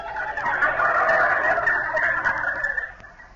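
A performer imitates a turkey's gobble in a 1943 radio comedy, a loud warbling, throaty burble held for about three seconds.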